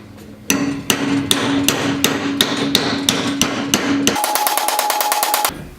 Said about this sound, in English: I'm just gonna hammer this in so it fits the frame a little bit better.